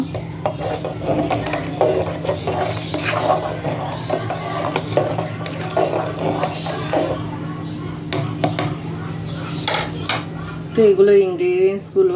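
A utensil stirs turmeric and ginger-garlic paste in a pan while sour red lentil dal with green mango is being cooked, making light, repeated scraping and clinking. A voice speaks briefly near the end.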